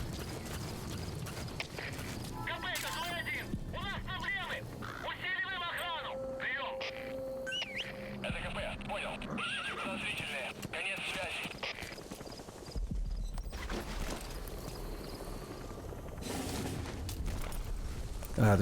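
Hooves clip-clop at a steady gallop with a horse whinnying in Metal Gear Solid V: The Phantom Pain, mixed with game music and effects; a voice talks over parts of it.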